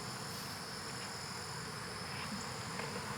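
A swarm of honeybees returning to a homestead hive where the queen is shut inside makes a steady, faint, continuous buzz with no talk over it.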